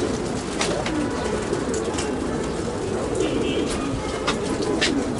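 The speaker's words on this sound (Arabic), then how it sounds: "حمام حط اهو بيحط" Racing pigeons land and coo on a rooftop loft, soft low cooing and rustling wings mixed with a broad outdoor wash of noise and faint distant sounds, with no talk.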